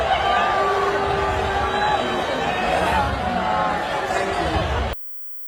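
A studio audience on The Golden Bachelor roars and cheers in a dense, loud wash of crowd noise and chatter that stays steady before cutting off abruptly near the end.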